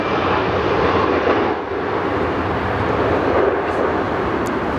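A Qantas airliner in retro livery lands on runway 16 right at Sydney Airport, its engines making a loud, steady, broad roar close by throughout.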